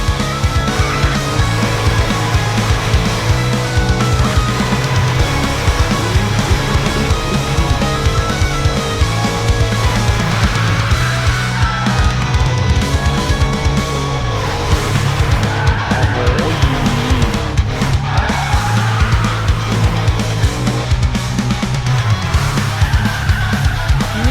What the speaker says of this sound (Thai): ผมจะเบรกยาวหน่อย